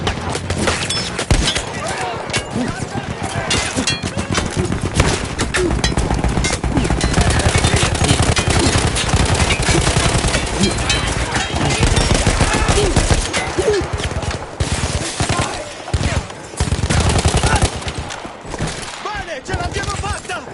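Battlefield war game: a mounted machine gun fires in long, dense, continuous bursts, loud and close, with crackling impacts and battle noise throughout and brief pauses between volleys near the end.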